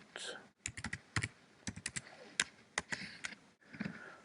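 HTML code is typed on a computer keyboard up close, with irregular bursts of crisp key clicks broken by short pauses. No one speaks.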